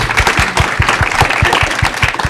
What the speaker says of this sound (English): And please give a round of applause for our moderator, Dior.